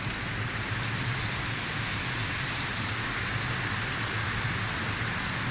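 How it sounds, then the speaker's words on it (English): Steady heavy rain in Singapore pours down as a dense, even hiss close by, continuous and unbroken with no voices. "The rain uh, become heavier and it's moving on from the place where I saw and where I'm right now."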